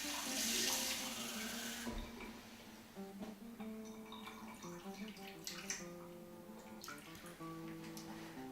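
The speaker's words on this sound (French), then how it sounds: "nous ajoutons un verre d'eau." Glass of water poured into a roasting dish holding a guinea fowl, a short bright splash at the start, then faint running and trickling water beneath quiet background music.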